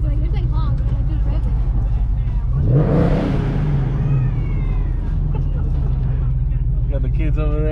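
A bagged and boosted Ford Mustang's engine revs up once, a loud swelling roar that peaks and falls back to a steady idle rumble, heard close from inside the car while people talk over it.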